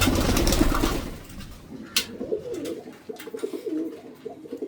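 Pigeons in a home pigeon loft coo in low, repeated rolling phrases at close range, with a sharp tap or flutter partway through.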